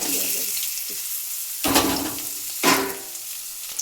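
Chopped onions dropped into hot oil in a wok, a loud crackling sizzle bursting in twice and settling into a steady fry, with no talking.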